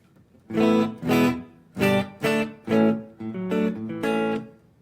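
Clean electric guitar through an 11 Rack amp set completely clean, playing a short phrase of plucked chords and notes, clear and close, with brief gaps between strums and no talking.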